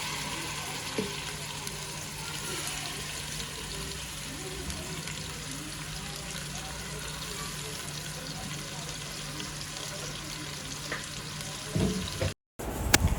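Marinated chicken frying with onions in a pan, a soft steady sizzle running throughout at low level, with a brief dropout and some clatter near the end.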